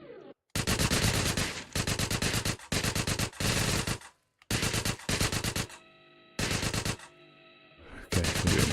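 Rapid bursts of micro SMG fire in GTA San Andreas, several loud, dense automatic volleys separated by brief gaps and a ringing tail, close and dominant, with no talk.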